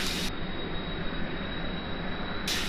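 In a video game, an aircraft takes off from a rough, unpaved runway. A steady, loud engine roar with rumbling noise runs unbroken throughout, and no one speaks.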